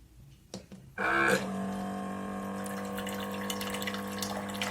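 A Silvercrest rechargeable mini water pump clicks on after a few soft taps, then runs with a steady motor hum under a continuous stream of pouring water, close and unbroken.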